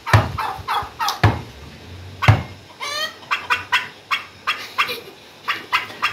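A flock of farmyard turkeys gobbles loudly and close by, first in a few spaced bursts and then in a quick, rhythmic run of rattling gobbles. No voices are heard.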